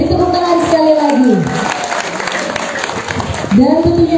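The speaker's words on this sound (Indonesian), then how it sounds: "Beri tepuk tangan sekali lagi." Audience applause at a community kick-off ceremony in Banjar Ubung, Jimbaran, a dense, steady patter of clapping under an amplified announcer's voice and musical tones, fading midway and swelling again near the end.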